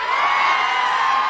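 Crowd shouting and cheering at an outdoor public political rally in Adilabad, Telangana, a dense, loud, continuous roar of many voices with no single speaker standing out.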